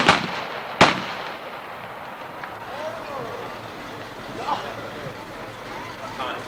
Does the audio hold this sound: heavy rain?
no